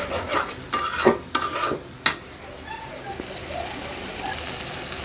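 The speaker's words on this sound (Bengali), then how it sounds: "তেলের মধ্যে এটাকে একটু ভালো মতো কষিয়ে নিব" Scraping and stirring strokes as spices fry in oil in a pan over a soft sizzle, a few quick bursts early on, then quieter frying continues alone.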